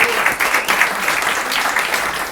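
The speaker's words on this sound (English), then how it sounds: "please give him a huge round of applause" An audience at a limerick-reading competition final gives a performer a big round of applause, loud close continuous clapping with a few whoops, steady for the whole stretch.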